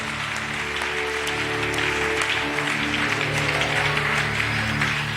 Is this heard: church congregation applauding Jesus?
yes